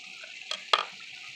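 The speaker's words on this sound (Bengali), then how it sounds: "এই যে আমি এখন ডিমটা ঢেলে দিচ্ছি।" Beaten egg poured into cooked masala in a hot pan, giving a soft sizzle with two brief stirring or clinking knocks over a steady frying hiss.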